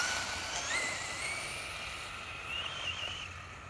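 Brushless-powered Traxxas Slash RC car accelerating, its thin electric motor whine rising in pitch twice, faint and somewhat distant over steady outdoor background noise.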